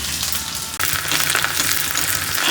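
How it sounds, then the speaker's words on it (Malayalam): Half a small onion frying in hot oil gives a loud, steady sizzle that stays dense and unbroken throughout, with a brief dip near the start and no voices. "ഞാനൊരു ചെറിയ സവാളയുടെ ഒരു പകുതിയാണ് കേട്ടോ വറുത്തിടുന്നത്"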